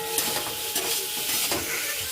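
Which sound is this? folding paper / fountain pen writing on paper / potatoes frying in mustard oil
potatoes frying in mustard oil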